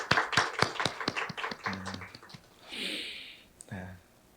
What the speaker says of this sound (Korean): 하나님께 다시 한번 영광의 박수를 드리겠습니다